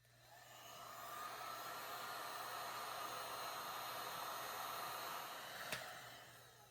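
A heat tool on its low setting blows air steadily for embossing on a junk journal page, a continuous close whir holding level for several seconds, then tapering off with a faint click near the end.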